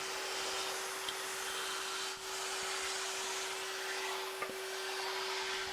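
A wood router cuts a circle into a board clamped in place, giving a steady, loud, high whine with a constant pitch. It runs unbroken for the whole stretch, with one brief dip in the middle.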